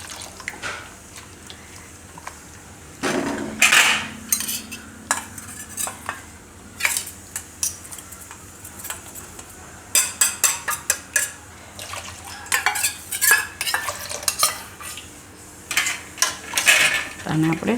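A spoon stirring custard powder mixture in a pot for mango ice cream, with intermittent metallic scrapes and clinks against the pot, some close and sharp, others softer, in an irregular rhythm.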